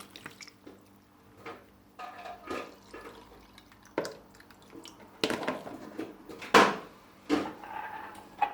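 Homemade lemonade strained in a kitchen, with scattered drips, soft liquid splashes and light clatters, one sharper knock near the end, fairly quiet and with no speech.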